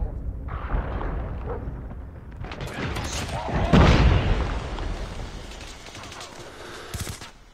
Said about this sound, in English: God damn, bullets just went everywhere.